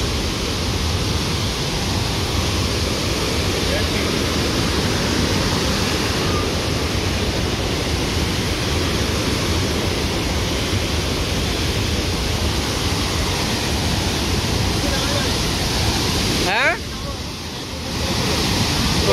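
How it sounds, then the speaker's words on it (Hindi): The Umkhim waterfall in Meghalaya roars as a loud, steady broadband rush of falling water that fills the whole scene. Near the end the sound briefly dips and shifts, likely from handling or a gust. "तो see this guys, this is the ओमकिम waterfall."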